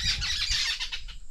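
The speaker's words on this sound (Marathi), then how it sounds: "हे अशा ओरडतात ना तेव्हा बाकीच्या पक्ष्यांना कोंबड्यांना पण समजतं की आजूबाजूला काहीतरी धोका आहे" Harsh, rapid squawking alarm calls from lapwings near a sweet potato field, loud and close, with several overlapping cries in a short burst.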